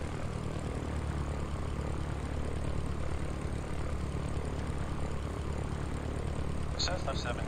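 Cessna propeller aircraft engine in the Sierra Pro Pilot flight simulator game, a steady continuous drone and hum holding at an even level throughout, with a brief crackle of sound near the end.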